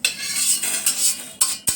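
Spices being fried in a pan give a light sizzle under repeated metallic scrapes and taps of a spoon stirring, ending with a couple of sharp knocks against the pan.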